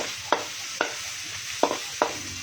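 Hot pan in a home kitchen for Bicol pancit bato, with a sizzling hiss from frying and four sharp clacks of an old ladle stirring garlic at steady intervals; no one speaks.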